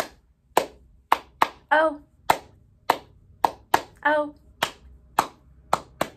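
Sharp hand claps replace the words in a children's singalong of the Bingo song at storytime, landing in a steady rhythm of single and paired claps, close and loud, while a voice sings between them.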